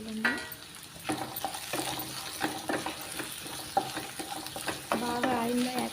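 Taro root pieces frying in hot oil for a Telangana-style chemagadda pulusu, with a steady sizzle and repeated scraping stirs of a spatula against the pan, close and fairly loud, with a brief voice near the end.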